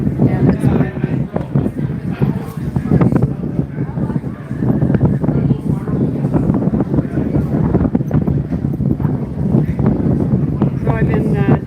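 Strong wind buffets a microphone outdoors in loud, continuous rumbling gusts, while people talk underneath throughout.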